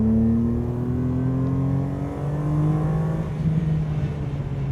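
Ferrari-based V12 engine of an RML Short Wheelbase road car out on a track, a loud, steady drone with rising pitch as it accelerates, then a shift to a lower, rougher tone, with no talk over it.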